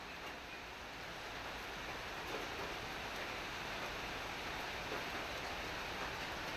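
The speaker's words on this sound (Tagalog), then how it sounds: "Bigla na lang umulan." Heavy rain pouring down in still air with no wind, a dense, steady hiss of constant downpour holding even throughout.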